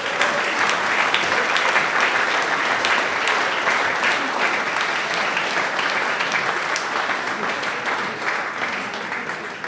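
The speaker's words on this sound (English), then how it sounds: "Give a round of applause, Angus." Loud, sustained applause from a large audience at an awards ceremony, a thick steady wash of clapping that holds for nearly ten seconds and eases slightly at the end.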